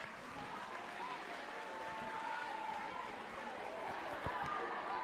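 An audience at a Grade 10 maths workshop claps for a few seconds, a soft, steady patter of applause heard from some distance with a bit of crowd murmur.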